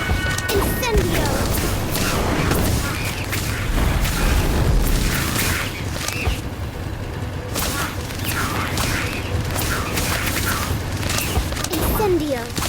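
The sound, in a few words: Incendio fire spell in Harry Potter: Magic Awakened video game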